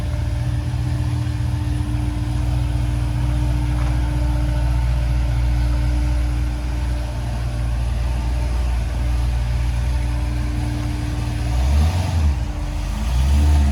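A 2013 Corvette ZR1 tuned to about 750 rear-wheel horsepower runs on a dyno, its engine holding a loud, steady low rumble before a brief rev swell near the end.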